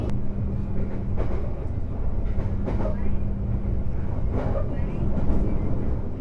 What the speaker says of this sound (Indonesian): Sekarang ini kereta api Argo Bromo Anggrek persiapan memasuki stasiun Tegal